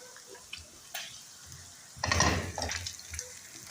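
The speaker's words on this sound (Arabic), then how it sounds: "قبل ما ببلش نزيد المي بالتدريج." Water is poured gradually into a pot of kishk cooking with meat and onion in a Lebanese kitchen. A splashing, trickling pour begins partway through after a few faint clinks, then carries on unevenly until the end.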